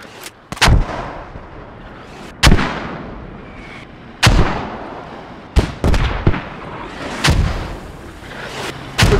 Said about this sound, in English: I got mortars landing, I said, 20 seconds.